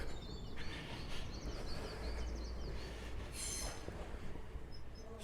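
A train passes through the English countryside on a morning near Hastings and Battle, a steady low rumble with faint wheel squeal above it, while birds sing in the dawn chorus at a distance.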